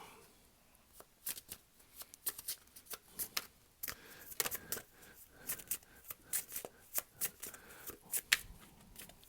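Tarot cards being shuffled in close, crisp riffling bursts that repeat in an uneven rhythm, with soft papery slaps between them and no talking.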